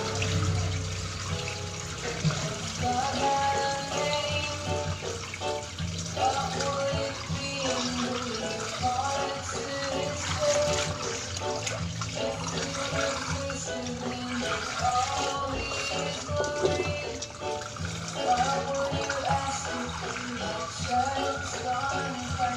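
Laundry rinse water is dumped out after the first rinse, a continuous loud splashing and gushing that runs without pause against a busy, churning background.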